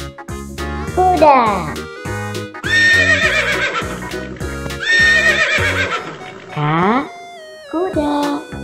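A horse gives several loud, close whinnies, each a high, wavering cry that dips away, with short hoof clops in between and no voices.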